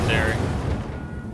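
An incendiary grenade in The Division bursts with a loud, close rumbling boom that fades quickly, with a voice over it.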